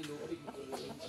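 Farm chickens of several breeds cluck in short, scattered bursts, faint and close together, with a voice talking quietly alongside.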